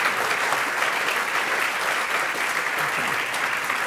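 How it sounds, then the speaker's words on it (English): A studio audience at a panel discussion on climate change applauds after the lightning round, a steady, dense wash of clapping that holds at an even level throughout. "Let's give them a round of applause for getting through the lightning round."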